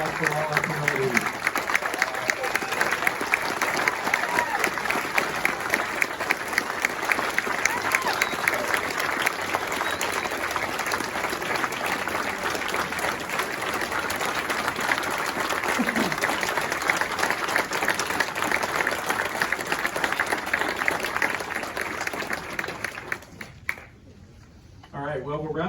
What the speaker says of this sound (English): one last round of applause for all our promotees.